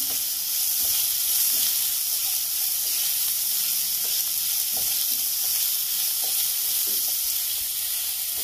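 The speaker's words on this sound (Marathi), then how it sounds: "पुन्हा एकदा छान 1 मिनिट हे सगळं परतून घेऊया व्यवस्थित" Mixed vegetables for veg manchow soup stir-fry in a pan with a steady close sizzle, broken by regular soft scrapes and knocks of a stirring spatula throughout.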